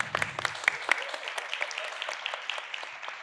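Audience clapping for a speaker introduced on a conference panel about brand experience, a fairly quiet, steady patter of many hands with a few sharper individual claps, lasting about three seconds.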